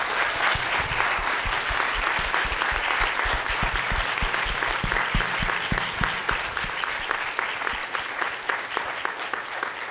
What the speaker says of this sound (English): if we can get one last round of applause for our filmmakers